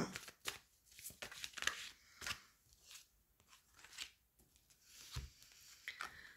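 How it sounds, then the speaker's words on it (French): Tarot-style cards are handled and pulled from a deck, quiet close rustles, flicks and soft snaps of paper in a scattered irregular rhythm. "On va prendre une carte."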